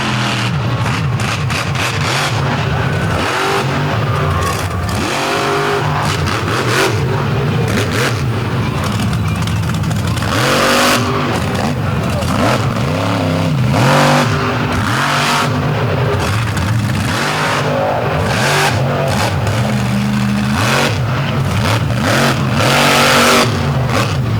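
A drag-racing truck revs its engine hard while lifting onto its wheelie bar at an all-star finals event, a loud, continuous roar with rising and falling pitch and crowd noise underneath, heard close and with no break.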